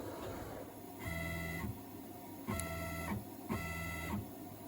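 A FOXAlien 4040-XE CNC machine jogs along its axis in three separate moves, each a steady tonal stepper-motor whine lasting about half a second with short quiet gaps between.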